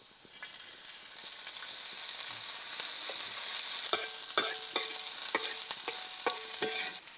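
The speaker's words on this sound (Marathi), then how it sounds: "आधी कांदा भाजून घेतलाय आणि आता तेल टाकते" Steady oil sizzling with onion in a pan on a wood-fired stove, with a constant hiss. Partway through, a utensil scrapes and taps at regular intervals while the food is stirred.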